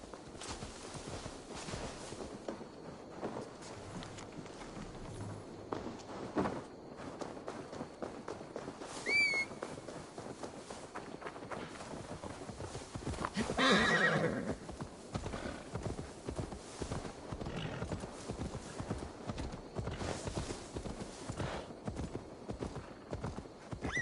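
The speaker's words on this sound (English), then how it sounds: "Now to deliver Magni his horse" Steady clip-clop of horse hooves walking in the video game Assassin's Creed Valhalla, with an occasional whinny and a brief whistle, over a continuous outdoor ambience.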